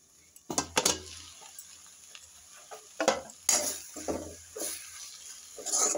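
Cabbage bhaji stirred in a pan over medium heat: a spatula scrapes and clacks against the pan in irregular bursts over a soft sizzle.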